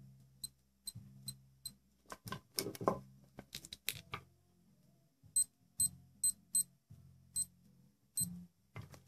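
A small electronic alarm from an SKMEI 1016 men's wristwatch beeps in thin, high-pitched bursts of two or three, mixed with clicks and taps of handling nearby.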